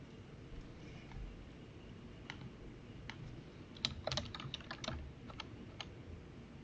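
Someone types on a computer keyboard during a code review, with soft, irregular key clicks. A quicker, denser burst of keystrokes comes midway, and the clicks stay fairly close and quiet throughout.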